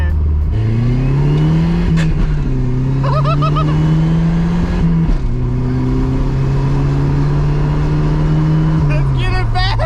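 A cheap daily-driven project car with its turbo boost turned up accelerates hard through several gears, the engine note climbing, dropping at each shift, and climbing again, loud and close from inside the cabin, with a voice heard briefly.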